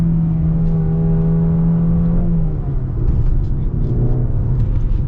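A 2025 Mercedes-AMG GLA 35 accelerates hard in Sport Plus mode, its engine droning loudly from inside the cabin, the pitch rising then dropping at a gearshift before pulling again.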